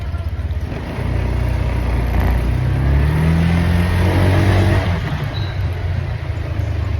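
A motorcycle carrying a passenger pulls away, its engine droning loud and close with rising revs that swell and then settle back to a steady hum.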